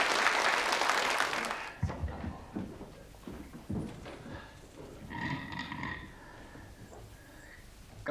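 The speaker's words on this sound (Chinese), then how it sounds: "再一次以热烈的掌声感谢刘立伟教授" An audience bursts into warm applause thanking a professor at a lecture gathering. The dense clapping fills the first couple of seconds, then breaks off into scattered low thumps and shuffling room noise.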